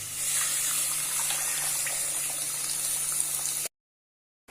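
A steady stream of water pours and splashes into a cooking pot of fish curry for several seconds, then stops abruptly.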